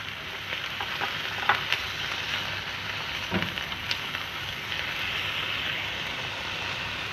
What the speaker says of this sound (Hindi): एक पैन में 2 चम्मच घी या ऑयल डालेंगे और उसके अंदर चिकन डाल देंगे